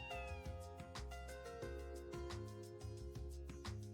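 A cat meows repeatedly in quick succession over steady melodic background music in the video game Zero no Kiseki, the calls clear and upfront.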